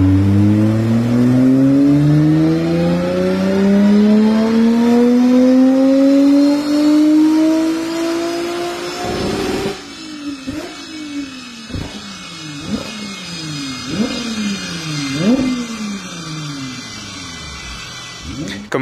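Loud car engine revving at the Nürburgring, likely an Audi S4 B5 with a single-turbo conversion, climbing steadily in pitch for several seconds, then blipping in a string of sharp, repeated throttle stabs.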